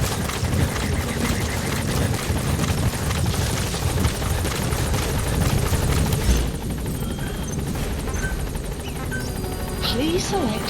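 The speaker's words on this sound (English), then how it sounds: "Support helicopter has arrived." A support helicopter in Metal Gear Solid V arrives at a landing zone, its rotor and engine roaring loudly and steadily throughout, thinning a little in the later seconds, with game voices over the top.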